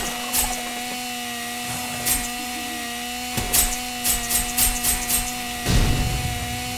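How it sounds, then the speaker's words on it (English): A chainsaw running in the survival game Night of the Dead, a steady high mechanical drone punctuated by sharp cutting and impact bursts, close and fairly loud with no talking. "I think I'm gonna use the chainsaw because it's more powerful."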